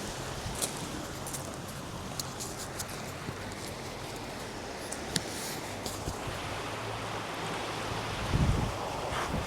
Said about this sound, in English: You can see the water flows alongside the back, and it's really relaxing to listen to the water